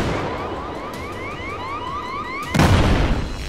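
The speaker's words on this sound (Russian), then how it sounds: "Кинул внутрь гранату." A grenade goes off in a tactical shooter game match, a sudden loud burst landing after a stretch of alarm-like rising electronic tones, then a rumbling decay; no voices during the blast.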